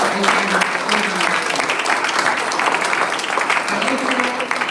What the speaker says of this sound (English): I appraise a huge round of applause for the madam